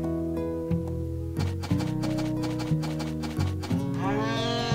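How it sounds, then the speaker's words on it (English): A cow in the farming game Harvest Moon: A Wonderful Life gives repeated low, drawn-out synthesized moos, one after another in a steady rhythm, with the game's tonal sounds underneath. "shut up, cow. I get the point. You're mooing."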